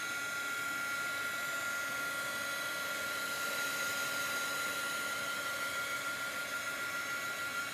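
A handheld dryer blows a steady, even whir with no breaks while chalk paste dries on a stencil over a black surface.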